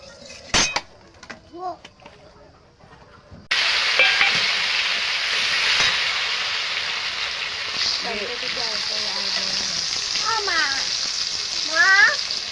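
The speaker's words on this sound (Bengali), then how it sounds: "টমেটো কুচিটা দিয়েছি, এবার ভেজে নেবো একটুখানি।" Chopped tomato hits hot oil in a wok partway through, bursting into a loud, continuous sizzle after a quieter opening with a few clinks; a person talks over the frying.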